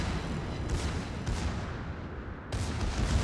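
Battleship main guns fire in the World of Warships game during a ranked match aboard a Tirpitz, dense rumbling booms overlapping with a few sharper blasts, loud and continuous.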